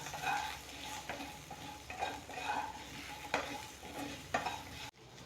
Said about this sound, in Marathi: परतून घेऊ भेंडी व्यवस्थित.